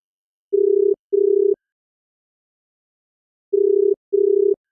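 A telephone line gives loud, clean, steady tones in two pairs of short beeps separated by silence, heard alone with nothing else in the background.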